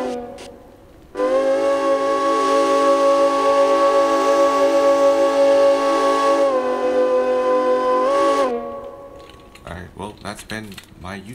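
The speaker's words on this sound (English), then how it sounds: "Let's hear the whistle." A single long, loud blast of a steam locomotive whistle in the game Derail Valley holds for several seconds, dips slightly in pitch, then cuts off before a voice briefly speaks.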